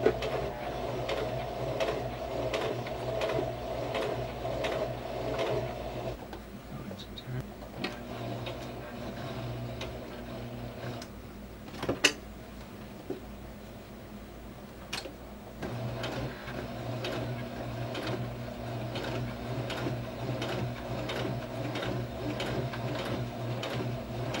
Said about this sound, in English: slowly press on the pedal and use your hand to slowly move the needle into the denim each stitch